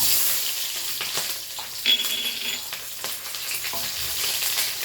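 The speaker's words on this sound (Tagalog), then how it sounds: "Mainit na po yung ating kawali guys. Lagay na po natin, syempre, ang ating sibuyas." Onion sizzles in a hot pan with a steady, bright hiss and occasional crackles and pops, close and continuous, and no one speaks.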